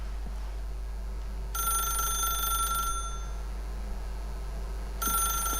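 In The Stanley Parable, a telephone rings in two loud electronic bursts separated by a pause, the second cut short, over a constant low hum.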